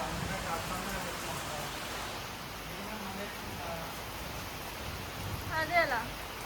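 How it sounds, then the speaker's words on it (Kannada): First rain of the season falling at a home in the Malenadu hills, a soft continuous hiss of steady rainfall outdoors, with a brief voice near the end. "ಮರಳು ಹಾಕಿದ ಮೇಲೆ ಫಸ್ಟ್ ಟೈಮ್ ಮಳೆ ಬಂದಿರೋದು"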